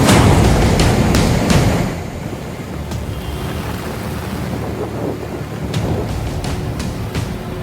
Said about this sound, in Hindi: शहर में इतनी भारी बारिश हुई कि बाढ़ जैसे हालात हो गए।